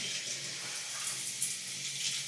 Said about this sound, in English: Alright, time to see if the shower works.